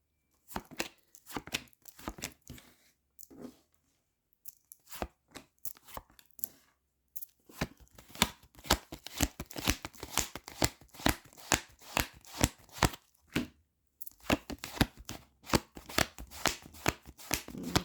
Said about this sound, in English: I'm going to just shuffle through my deck